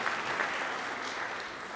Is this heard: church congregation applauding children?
yes